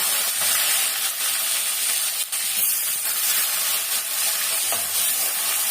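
Shallots and garlic sauté in a pan for a kuzhambu, giving a loud, constant close-up sizzle and hiss with a few soft stirring scrapes and no talk.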